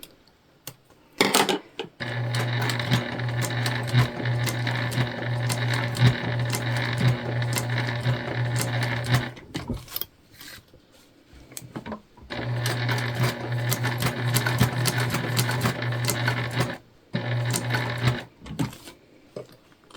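Sewing machine stitching reusable holiday gift bags made from placemats with webbing handles, running in two long steady bursts of rapid whirring with brief pauses and clicks between them.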